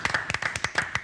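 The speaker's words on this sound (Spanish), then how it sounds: "fuerte el aplauso para los dos," Studio audience clapping on a TV show, about a dozen sharp, fairly quick claps heard up close in a short, moderately quiet burst.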